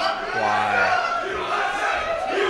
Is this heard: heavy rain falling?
no